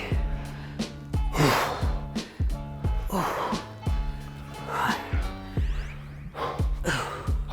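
Heavy, rhythmic breathing during a kettlebell circuit workout, with repeated sharp exhales and gasps in a steady cycle under faint background music, no speech.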